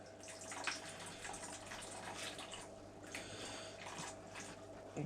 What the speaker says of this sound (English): gravel vac in a shrimp tank